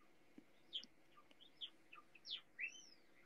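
Several birds chirp in short, sharp bursts of high tweets spread across a few seconds, fairly faint against a quiet background with no talking.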